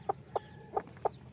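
A farmyard hen clucks four times in short, evenly spaced bursts, close and fairly soft against a quiet background.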